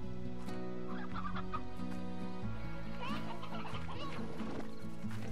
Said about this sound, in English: Some chickens.